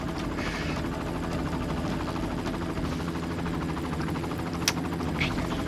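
A helicopter in a video game whirs with a steady, dense rotor drone that holds evenly throughout, with a couple of faint sharp clicks on top.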